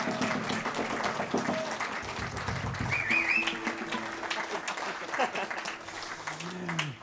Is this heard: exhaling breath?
no